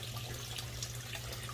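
Small waterfall splashing into a turtle pond indoors, a steady broadband rush of falling water with a constant low hum beneath, close and continuous with no talking.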